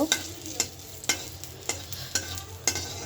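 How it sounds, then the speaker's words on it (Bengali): Dried red chillies frying in a pan as a tempering for bottle gourd greens, with a continuous close sizzle broken by regular scraping stirs, each stroke about every half second, no talking. "এটা ভেজে নেব"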